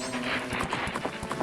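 A horse gallops in Zelda: Majora's Mask, its hooves landing in a rapid, uneven clip-clop rhythm, close and moderately loud over a busy game soundscape.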